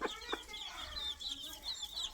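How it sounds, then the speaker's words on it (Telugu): A hen clucks at her chicks, with soft repeated clucks and high peeping from the little ones, all fairly quiet and close. "చూడు కోడి"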